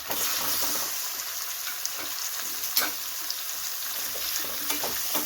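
Paneer cubes frying lightly in homemade butter for palak paneer, a loud continuous sizzle with occasional stirring clicks, close up with no talking.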